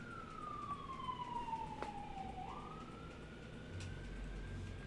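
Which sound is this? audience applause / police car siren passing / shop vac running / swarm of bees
police car siren passing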